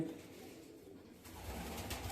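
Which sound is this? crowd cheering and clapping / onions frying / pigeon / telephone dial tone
pigeon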